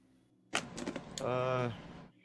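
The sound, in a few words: spaceship door closing in Star Citizen video game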